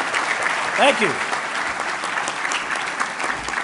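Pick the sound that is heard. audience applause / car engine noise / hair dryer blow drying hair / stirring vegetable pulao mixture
audience applause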